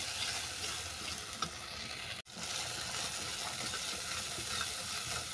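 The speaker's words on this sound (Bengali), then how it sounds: "এই সমস্ত মশলা ভালো করে কষিয়ে নেব।" Spices sizzling and frying in oil for a Bengali fish curry, with steady crackle and occasional stirring scrapes, close and continuous, with one brief dropout partway through.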